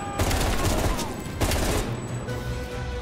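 Loud, dense gunfire fills the moment in Call of Duty: Black Ops Cold War, with sustained bursts and sharp blasts layered over one another.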